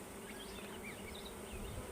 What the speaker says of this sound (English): this is a lot of bees